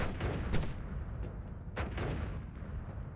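Repeated explosions in the video game Noita, a dense run of booming blasts with sharp bursts that recur across the whole stretch, loud and close with no talking.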